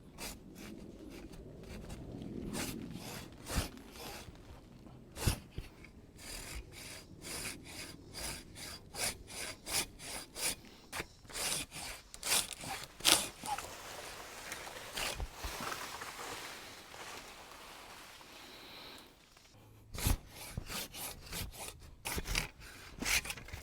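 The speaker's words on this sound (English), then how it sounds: "I'm going to cut off the section so the largest portion of the tree falls and gets out of my way" Hand sawing through a sourwood tree outdoors in the backwoods, a steady run of close rasping strokes with short pauses partway through before the cutting resumes.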